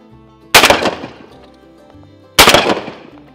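A shotgun fires twice at starlings on a farm, two loud, close blasts about two seconds apart, each with a short echoing tail outdoors. No one speaks.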